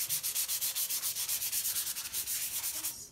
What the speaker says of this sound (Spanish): ya que está completamente seco, vamos a pasar una lijita